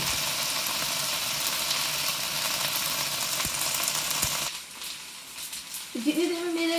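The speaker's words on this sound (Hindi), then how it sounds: "इसको हम बहुत लाइट सा मिक्स करेंगे और 3 to 5 मिनट उसको फ्राई करेंगे।" Ginger sizzles and fries in hot oil in a pan for a bhindi dish, a steady loud crackle that cuts off partway, then quieter clatter and a brief tonal sound near the end.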